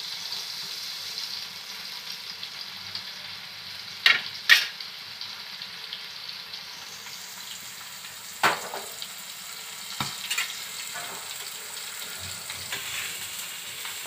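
Surmai fish steaks, just flipped, fry crisply in a pan over high heat. A steady, close sizzle runs throughout with a few sharp spatter pops and clinks, and no voices.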